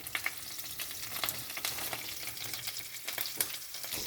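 Continuous hot-oil sizzling and popping of spices tempering in a pan for sambar, with stirring scrapes throughout, close and fairly loud.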